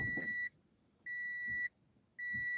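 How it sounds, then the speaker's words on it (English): Three evenly spaced electronic beeps sound inside a car, each a steady high tone lasting about half a second with short silent gaps between. "Sorry for the beeping."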